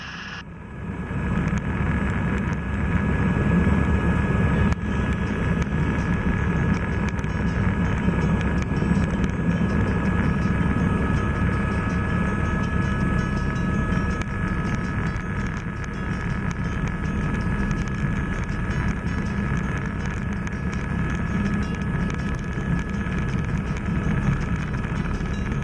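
Helicopter on a doors-off sightseeing tour over Oahu, a loud, constant engine and rotor drone mixed with heavy wind rush that holds steady for the whole stretch, with no talk.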